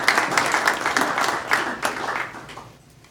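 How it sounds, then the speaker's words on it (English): Warm round of audience applause at a veterans' post gathering welcoming a colonel to the podium, many hands clapping steadily and fairly loud, then thinning and fading out at the end. "please help me welcome him with a warm round of applause"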